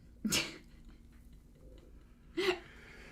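Two sharp sneezes about two seconds apart, each a sudden loud burst of breathy noise, heard close up in a quiet room.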